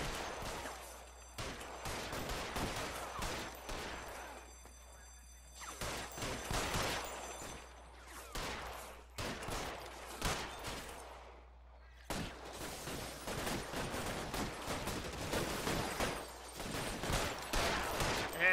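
Gunfire in the video game L.A. Noire, with dense, repeated bursts of shots and rapid fusillades that come in waves with short lulls, loud and continuous across the scene.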